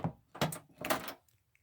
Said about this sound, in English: I'll just shut the door now.